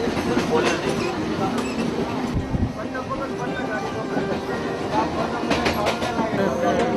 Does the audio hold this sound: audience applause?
no